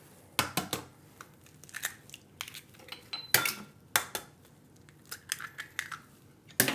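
Eggshells cracked against a hard kitchen surface or bowl for a keto breading mixture, a series of sharp close taps and crunchy clicks in irregular bursts, with no talking.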